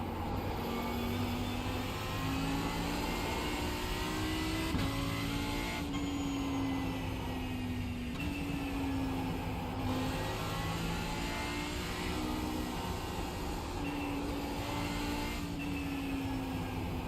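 Race car engine in iRacing, revving hard and climbing through gears in repeated rising sweeps with brief drops at each shift, loud and steady for the whole lap.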